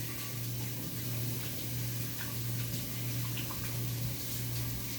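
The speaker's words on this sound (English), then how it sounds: "I'm going to wash my hands" Hands are washed under a running tap, a steady rushing water stream with faint splashes and light ticks over a low background hum.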